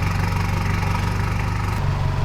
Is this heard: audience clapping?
no